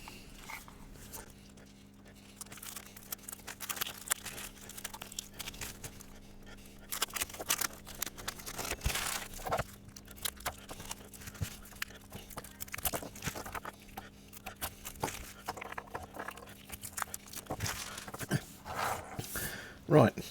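Packaging being unwrapped from an old AWA 23-inch black-and-white TV part, sped up into a continuous rustling and crinkling patter that runs throughout, fairly close.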